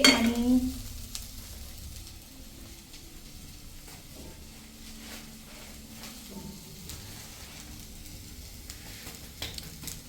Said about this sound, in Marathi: सो बटर, जाणार पॅनमध्ये.